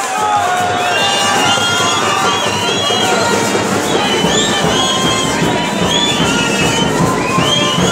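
A crowd at a New Year's Eve festivity in Oporapa, Huila cheers and shouts, loud and continuous, with children's high voices and whistles rising over a constant roar of clapping and excited noise.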